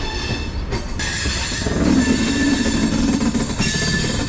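The Chennai Central to Calicut train pulls away from the station with a loud, steady rumble of rolling carriages and faint wheel squeal, no voices present.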